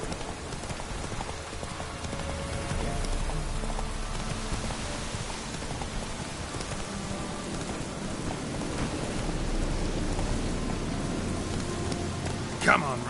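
Heavy rain pouring down in a video game, a dense steady hiss of downpour with low rumbling underneath and a sharper knock near the end, moderately loud and continuous.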